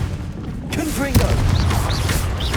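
Confringo blasting spell explosions in the Hogwarts Legacy video game, a burst of booming impacts at about the midpoint followed by continued crackling rumble, with whistling magical effects and a voice heard over the top.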